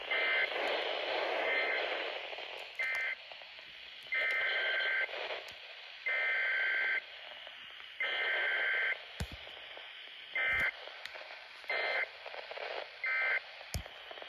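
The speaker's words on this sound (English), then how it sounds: "Notice how it's not connected anywhere and it's still receiving the tones from the iPod." Alert tones played from an iPod come through a weather radio receiver that is not connected by cable, heard as a series of steady electronic tone bursts with short gaps, repeating over a hissy background.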